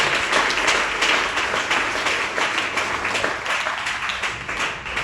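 A church congregation applauding the Lord fills the space with steady, dense clapping that runs unbroken throughout, loud and close, with no voices standing out above it.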